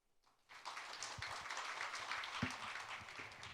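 An audience at a conference bursts into applause, and the steady clapping carries on softly from a distance for a few seconds.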